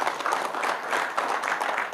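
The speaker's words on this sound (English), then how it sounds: "Give him a round of applause." A short burst of dense audience applause for a keynote speaker at a networking event, steady and fairly loud with no talking over it.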